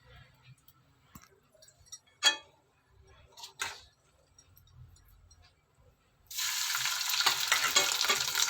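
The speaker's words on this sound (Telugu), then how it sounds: "తర్వాత ఇది నూనెలో వేయించుకుందాం" An egg dropped into hot oil bursts into a loud, steady sizzle of frying after a few soft clicks and taps of utensils. The crackle holds close and continuous to the end.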